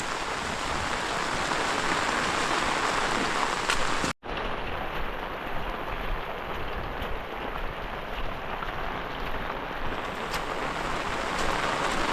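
Downpour in a rural Konkan village, continuous loud hissing rain drumming nearby surfaces with a brief cut partway through, steady throughout.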